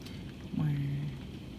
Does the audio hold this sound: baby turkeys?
no